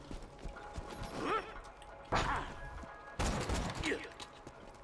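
Gunfire in the shooter game Borderlands 2: three separate loud bursts, each a sharp crack with a short ringing tail, spread over a few seconds against a low game background.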